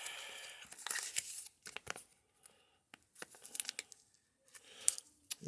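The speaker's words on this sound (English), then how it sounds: "let's open the pouch." Foil-lined pouch holding an HRT patch being torn and peeled open by hand, with sharp crinkling and ripping bursts in several short runs separated by quiet pauses, close and fairly quiet.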